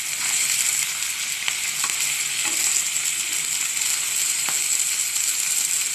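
Vegetables half-frying in hot oil in a pan give a steady, close sizzle with occasional stirring clicks, heard alone throughout.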